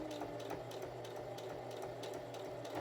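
A sewing machine stitches a fabric bookmark with a steady, rapid mechanical whir and a rhythmic needle clatter, running continuously at a moderate distance with no talking.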